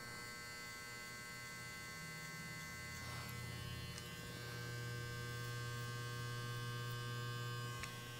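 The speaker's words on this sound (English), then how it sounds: "my clipper of choice for this is an outliner with a T-blade" An outliner hair clipper with a T-blade hums steadily and close by throughout, a constant motor buzz with a slight swell in the middle, during a child's modified pompadour haircut.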